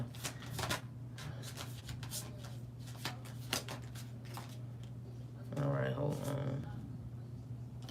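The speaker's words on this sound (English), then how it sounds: "Let me give this another shuffle" Tarot cards are shuffled in quick riffles and soft flicks at close range, intermittent and light, with a steady low hum underneath and a brief louder rustle near the end.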